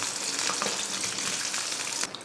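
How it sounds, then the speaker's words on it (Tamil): Paneer frying in oil on a low flame, a steady dense sizzle throughout with a faint stir near the end. "இது போல் எல்லா பன்னீரையும் பொரித்து எடுத்துக்கோங்க"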